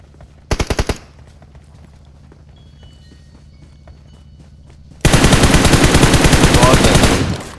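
Video game gunfire: a short loud burst of rapid shots, then a quiet stretch, then a long, loud, sustained volley of automatic fire close by.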